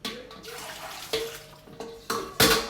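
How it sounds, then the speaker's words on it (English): Water from a pot poured down a kitchen sink drain, a steady splashing gush close by that swells in bursts toward the end. "I'm going to take this over here and pour this here down the drain"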